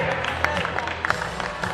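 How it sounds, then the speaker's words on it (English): A basketball arena crowd applauds the game officials, a brief steady wash of clapping at moderate distance with a murmur of voices beneath. "let's give a big round of applause for our IHSAA officials for tonight's game"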